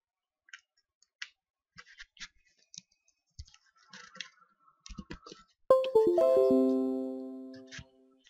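Computer mouse clicks land as scattered sharp, dry ticks at an irregular pace, followed by a loud ringing chime that slowly fades out.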